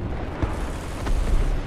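Artillery strike in the War Thunder tank game, with dull booming impacts that rumble low under steady battle noise, one thump near the start and a heavier rolling blast toward the end.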